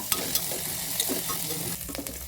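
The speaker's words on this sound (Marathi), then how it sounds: "चिरलेला कांदा कांदा चांगला परतून घ्यायचा लाल होईपर्यंत" Chopped onion frying in oil with mustard seeds and cumin, a steady close sizzle with scraping stirs and a few sharp clicks of a spatula against the pan, no talking.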